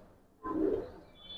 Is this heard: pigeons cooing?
yes